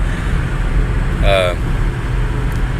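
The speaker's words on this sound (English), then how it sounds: "the rack is making all kinds of noise. I can hear the wind blowing through everything" A truck driving on a highway, with steady loud road and wind roar throughout and a brief voice partway through; the roof rack rattle is not distinct.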